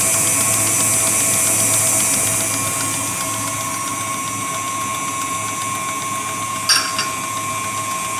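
An electric mixer whisks hot nougat mixture in a bowl, a steady high mechanical whir with grinding gear tones that runs continuously and loudly, with a brief clatter near the end.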